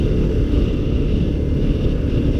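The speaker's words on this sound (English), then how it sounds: "Windy." Rough, low wind buffeting roars steadily against the microphone for a couple of seconds with no other sounds.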